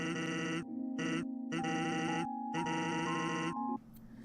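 Video-game goat bleating from a JRPG, several loud electronic bleats in a rhythmic stuttering pattern with sustained tonal pitches, close and clean, ending abruptly with a faint noisy tail and no talking.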